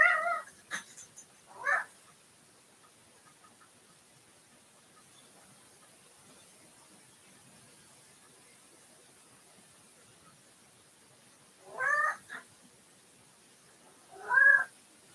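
A house cat meows in a quiet indoor room, a couple of short cries near the start and two more separated by long silence, close and fairly clear.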